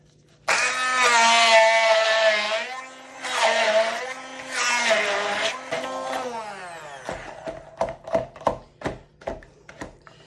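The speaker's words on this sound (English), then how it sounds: "I'm going to start pureeing this down with my stick blender." A stick blender whirs loudly in long steady bursts while pureeing soap ingredients, its pitch dipping under load, then ends in a series of short pulsed buzzes.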